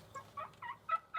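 A wild turkey in a Michigan field gobbles in a quick, rattling run of five short, warbling notes, fairly faint and distant, with no talk.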